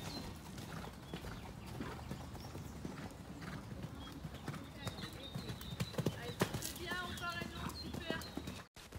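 Horse hooves clip-clop steadily through a show-jumping round as the rider works a figure-eight over a small vertical fence. A whinny and some chatter from bystanders come in under the hoofbeats, and birds call faintly in the background.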